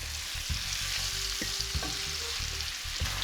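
Onions and peppers sizzle steadily in hot oil with garlic and Serrano hot sauce, a continuous close frying hiss with faint clinks and stirring noises throughout.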